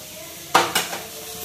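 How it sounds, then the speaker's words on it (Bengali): Pointed gourd fries in a pan with a soft, low sizzle, broken by two sharp metal utensil clinks close by. "আর এদিকে পটলগুলো ভাজছি"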